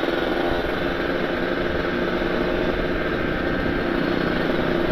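A Kawasaki Ninja RR two-stroke motorcycle fitted with an ABRT20 exhaust drones steadily and loudly, a constant raspy engine note held without break throughout.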